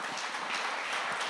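Congregation in a church applauding together, a steady wash of clapping throughout with no voices on top.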